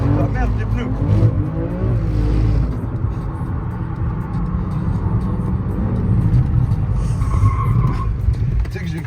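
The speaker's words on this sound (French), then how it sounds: "Tout ce qu'on entend, les brrr, brrr, brrr, c'est les pneus, c'est les pneus." Car tires chattering and skidding on a race track during a circuit day, a loud continuous engine roar with rough tire judder, under voices talking.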